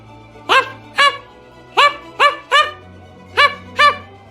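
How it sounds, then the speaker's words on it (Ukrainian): A dog with puppies barks in sharp, separate yaps, about seven barks spaced irregularly, near and clear, over a faint low hum, with no talking. "Собачка з цуценятами живе в хатині край стежини."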